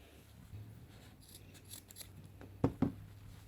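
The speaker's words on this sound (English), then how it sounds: "Okay, so just cut this." Scissors snipping dental floss or string for a craft gnome, a quiet close-up with soft rustling followed by two sharp cuts near the end.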